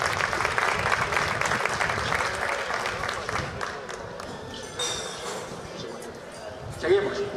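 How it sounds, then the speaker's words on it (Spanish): An audience at a historical reenactment of falcata and spear combat with caetra and scutum shields applauds, clapping fairly loud at first and then fading, with someone talking over it and a few knocks and thuds near the end. "Un aplauso, por favor."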